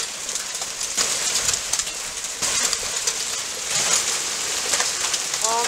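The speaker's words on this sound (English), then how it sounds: "This is what the hail looks like now" Hail from a violent storm pelts the windows in a steady, dense clatter, continuous and loud throughout with brief swells in intensity.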